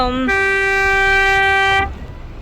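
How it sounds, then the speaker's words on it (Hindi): A loud, steady boat horn blast on a dolphin-swimming trip off Kaikoura, New Zealand, holds for about a second and a half, then cuts off, leaving a faint background hum. "इस हॉर्न का मतलब है कि जो अब स्विमर्स थे ना, वो डाइव करने के लिए रेडी हैं"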